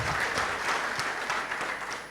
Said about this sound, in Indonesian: Yang mau berikan tepuk tangan meriah buat Tuhan kita.